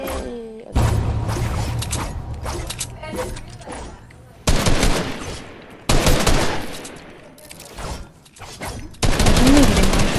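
Rapid automatic gunfire in the video game Fortnite arrives in several loud, dense bursts separated by short pauses, with thuds among the shots and occasional voices under the volleys.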